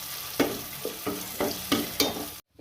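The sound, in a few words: tomatoes, curry leaves and crushed pepper frying for rasam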